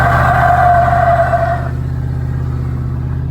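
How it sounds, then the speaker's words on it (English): A 2004 Chevrolet Silverado with a 5.3 V8 on wet roads revs hard as its tires break loose, a loud sustained engine roar with a high tire squeal that fades out partway, leaving a deep rumble. "it just broke the freaking tires loose"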